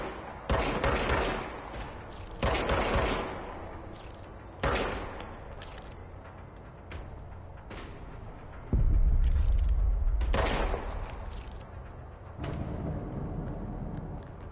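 Gunfire from a weapon in the video game Control: several loud, sharp bursts of rapid shots separated by pauses, each with a booming tail, followed by a rumbling low blast and quieter sustained noise.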